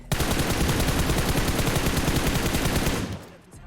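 Sustained automatic gunfire in the mobile battle-royale game PUBG Mobile, a loud continuous rapid burst of shots lasting about three seconds before cutting off.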